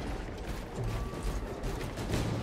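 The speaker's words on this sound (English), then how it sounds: "Reloading weapon." A weapon being reloaded in the video game Space Marine 2, heard as a brief run of mechanical clicks and ratcheting metal under a dense, steady game soundscape.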